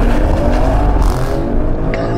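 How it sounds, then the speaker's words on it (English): A Maserati Grecale Trofeo launches hard from a standstill, its engine roaring loudly as it climbs through the revs with a brief shift break midway. "foot hard on the brake, foot hard on the accelerator,"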